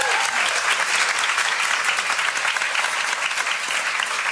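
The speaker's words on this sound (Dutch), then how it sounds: "Geef een groot applaus, Jeanine!" A television studio audience gives freediving world champion Jeanine Grasmeijer loud, sustained applause, dense and even throughout, with no other sound standing out.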